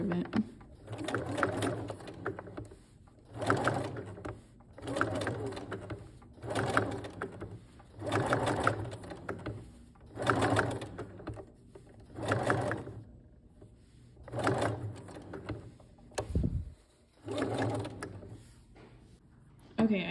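A domestic sewing machine stitches a cloth pad straight over pins in steady whirring runs of about a second, each followed by a short pause, repeating around ten times at a moderate, close level.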